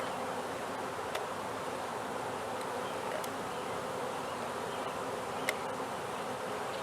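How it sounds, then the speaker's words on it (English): A swarm of bees hums in a steady, dense drone, close and continuous, with a few faint clicks over the buzzing while comb from a swarm catch is handled. "oh cool, I got a swarm of bees"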